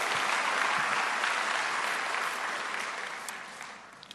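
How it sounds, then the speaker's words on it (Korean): Warm applause from a church congregation at a Korean Onnuri Church service, dense clapping filling the room and gradually tapering off over a few seconds. "큰 박수로 축복해 주십시오."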